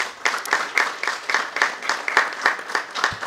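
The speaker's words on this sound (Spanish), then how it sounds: "Vamos a darle un aplauso al señor alcalde que nos va a saludar" Applause from an audience at the opening of an art exhibition at a cultural centre, welcoming the mayor: steady, moderately loud clapping with a ragged rhythm and a few sharper individual claps standing out, heard alone.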